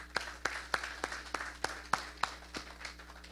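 An audience applauds at a housing authority success event, with about a dozen sharp, evenly spaced claps at moderate distance, sounding like a sparse, thin round of clapping in a large room.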